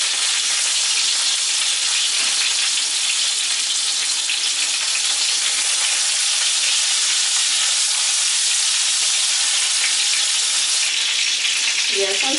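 Chicken katsu cutlets frying in oil in a skillet give a loud, dense, continuous sizzle and hiss, close and steady throughout, with a faint clink near the end.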